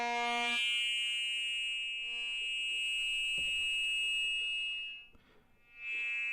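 A Karplus-Strong feedback-loop patch on an Intellijel Sealegs module rings out as a sustained, bright pitched tone with rich overtones, steady and loud, briefly dipping near the end before returning.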